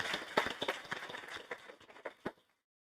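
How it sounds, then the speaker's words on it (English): Scattered clapping from a small audience in a room at a live metaverse panel, with a handful of sharp, irregular claps that thin out and stop after a couple of seconds. The clapping is fairly faint. "I want to have a great applause for everybody in the room for coming here"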